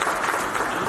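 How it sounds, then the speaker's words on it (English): A short, steady burst of audience applause in a hall at a medical laboratory technology association's annual general meeting, dense and even for about a second without speech over it. "Let's clap for him once again."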